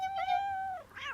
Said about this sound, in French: Ça doit être Tipex, le chat de Paul